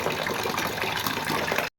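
Water pouring steadily into a cooking pot for boiling rice for mutton dum biryani, a continuous close splashing gush that stops abruptly.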